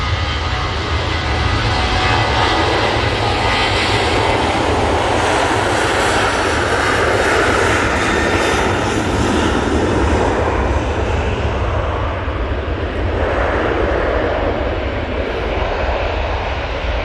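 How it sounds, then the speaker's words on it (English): A Ryanair Boeing 737-800 taking off from Manchester Airport, its powerful engine roar loud and sustained, then fading gradually as the jet climbs away. "Ryanair 737-800 off to Marrakesh."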